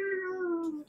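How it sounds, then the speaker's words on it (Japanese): A single cat's meow, clear and fairly close, one drawn-out tonal call that slides slightly downward and fades after about a second. "猫。"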